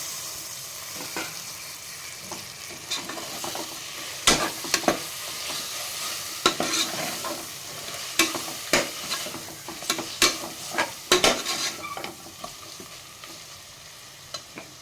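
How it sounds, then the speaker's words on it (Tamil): Tomatoes go into sizzling ginger-garlic paste in a pan for vegetable biryani, a steady close sizzle broken by repeated sharp clanks and scrapes of stirring, with no talking. "இப்போ தக்காளி சேர்த்துறேன்"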